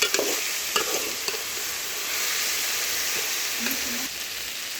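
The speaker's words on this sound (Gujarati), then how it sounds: "હવે આપણે એને પાછું એક વખત હલાવી લઈશું" A pot of food is stirred on a stovetop, a soft steady sizzle running throughout with a few light scraping strokes near the start and another brief scrape near the end.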